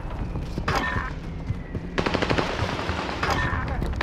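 Automatic gunfire in the Warzone video game rattles off in rapid bursts, with several loud volleys separated by short gaps, heard up close.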